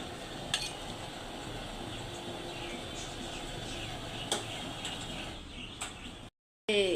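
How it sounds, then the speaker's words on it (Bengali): A cooking stove burner turned up high gives a steady, broad roaring hiss that runs unbroken, with a few light clicks and clatters on top, then cuts out briefly near the end. "শব্দ হইতেছে চুলা বাড়াইলে অনেক শব্দ হয়"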